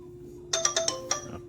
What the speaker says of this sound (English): Someone's calling, but there's no name of the caller.